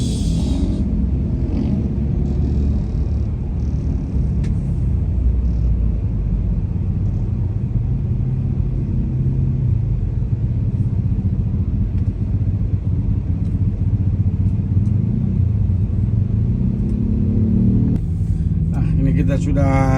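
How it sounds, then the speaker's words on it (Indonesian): Dense, continuous engine rumble of congested street traffic in Makassar, near a university campus where a protest has stalled vehicles, with motors idling and creeping close by and a brief voice at the end. "Ini macet karena ada aksi."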